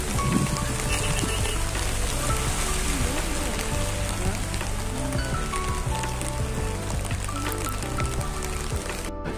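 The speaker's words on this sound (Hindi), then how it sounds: "फिलहाल अभी यहाँ पे पूरा बारिश हो रही है" Heavy monsoon rain pours steadily in Lamahatta eco park near Darjeeling among pine trees, a dense, continuous patter of drops on surfaces with no voices.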